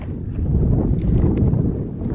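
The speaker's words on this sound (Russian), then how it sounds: "Тут ветер сильный" Strong wind buffets the microphone with a deep, constant rumble, gusting loudly and steadily throughout.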